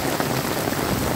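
Rain pours onto a street in America, a dense, constant hiss of drops hitting the wet pavement and pooling water, heard close and loud.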